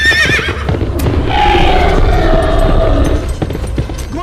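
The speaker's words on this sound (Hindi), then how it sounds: "घोड़े को पकड़ो।" A horse gives a loud, close, quavering neigh that swells over a couple of seconds in a Ramyug episode scene, set against a dense layer of rumbling action noise and light hoof-like clatter.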